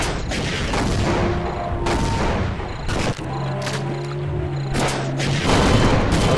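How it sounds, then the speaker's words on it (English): Rocket explosions in Sven Co-op, heard as a loud, dense barrage of booms and blasts layered with tonal game sounds, continuous and close throughout. "Okay, I hit it with a rocket."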